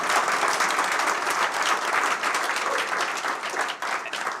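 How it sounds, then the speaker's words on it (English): A crowd gives a full round of applause at a forum at Atlanta Tech Village, loud, dense clapping from many hands that holds steady and tapers only slightly near the end. "Let's give Scott a round of applause."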